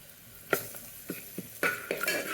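Tempering of onion, green chilli, curry leaves, ginger-garlic and turmeric frying in oil in a pan gives a soft sizzle punctuated by several sharp spoon scrapes and knocks against the pan, close and fairly quiet.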